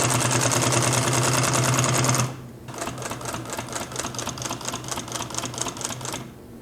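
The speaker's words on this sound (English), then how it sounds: "Hold your threads back a bit whenever you start to sew, and we'll check out that extra long stitch length and what kind of effects you can get." Consew 339RB-4 industrial sewing machine running at speed with a dense, rapid clatter, then shifting to a slower, evenly spaced pattern of long stitches with rhythmic ticking.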